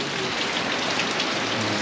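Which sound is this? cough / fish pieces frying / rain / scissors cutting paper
rain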